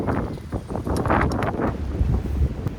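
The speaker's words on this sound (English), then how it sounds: "it's like super, super windy" Strong outdoor gusts buffet the microphone in a roaring, fluctuating rumble that swells and dips throughout, loud and close with no speech.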